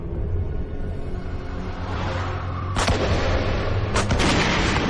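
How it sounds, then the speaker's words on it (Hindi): Gunshots ring out inside a cave in a film sound effect: a dense rumbling bed gives way to a few loud, sharp cracks near the end, echoing over the continuous background roar. "गोली मत चलाओ, गुफा गिर सकती है।"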